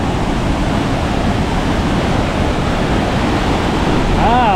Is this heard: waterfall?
yes